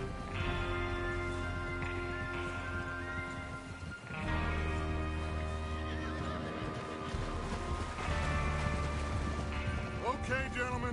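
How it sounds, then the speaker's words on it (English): Horses whinny and hooves clip-clop in the Red Dead Redemption 2 video game, set against a dense musical and ambient bed, with a couple of neighs standing out and hoofbeats continuing throughout. "Get your horses ready."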